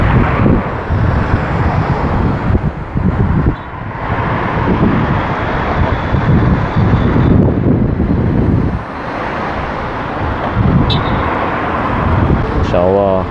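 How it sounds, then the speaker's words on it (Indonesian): Strong wind roars outdoors in Makkah after a flood, blowing dust across an open parking area, with heavy gusting rumble across the microphone and a person talking over it throughout. "Insya Allah ini anginnya masih tiup kencang."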